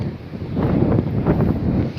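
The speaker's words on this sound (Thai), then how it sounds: "ลมอย่างแรงเลยพี่น้องโอ้" Strong, cold wind gusts across a red salad vegetable garden, a steady roaring rush that buffets the microphone throughout with no talk.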